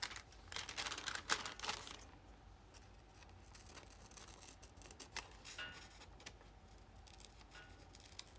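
Scissors snip through wax paper in quick, quiet, close cuts, a flurry of crisp clips with light crinkling and no one speaking.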